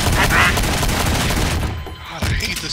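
Rapid, dense gunfire comes from a weapon in a Garry's Mod match and runs loud and continuous for a couple of seconds, then breaks briefly and resumes, with a voice talking through it.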